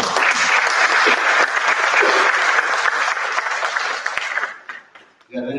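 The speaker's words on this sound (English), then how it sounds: "I request all of you to welcome him by giving an applause" An audience at a plenary conference session applauds to welcome a keynote speaker, a loud, dense burst of clapping filling the room that thins and dies out near the end before a brief resumption.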